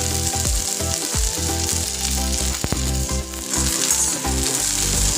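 Okra stir-fried in a pan sizzles loudly and steadily, with occasional clatter from stirring and no talking.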